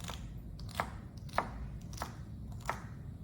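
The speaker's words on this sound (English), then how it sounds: "Then you're gonna grab your celery and you're gonna do the exact same thing you're doing with your carrots. It's just gonna chop away." Celery is chopped with a knife on a cutting board, producing a series of soft, irregular knife taps over a low background hum, fairly quiet and close, with no talking.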